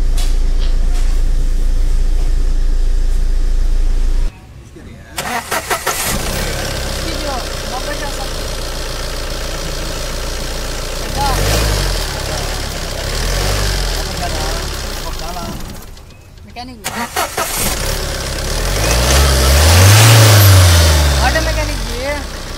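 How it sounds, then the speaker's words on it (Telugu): A Tata Safari diesel engine, just repaired after injector work, cranks, starts and runs at a steady close idle with some revving, while someone talks over it. "మీకు ఇంజిన్ చూపిస్తుంది సౌండ్."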